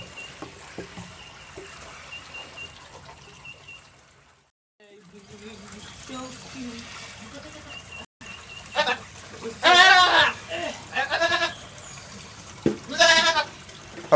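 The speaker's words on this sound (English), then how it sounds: "trying to put the collar on Ginger Louise, the poor goat." Goat bleats ring out several times close by, loud and wavering, over a soft background with some quiet murmuring and rustling.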